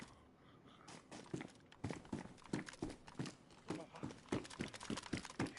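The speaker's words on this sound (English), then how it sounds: "he's heard my footsteps" Footsteps in the survival video game DayZ, a steady run of soft, rhythmic steps at moderate distance, fairly quiet, with some talk faintly present.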